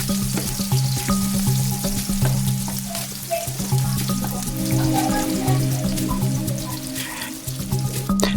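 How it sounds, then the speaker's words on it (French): Chopped onions fry in oil while being stirred, a steady sizzle close by with repeated scraping and clinking of the utensil against the pan, plus a low background hum throughout. "Nous allons remuer de peur que ça ne brûle. Juste le temps de rendre doré ces oignons."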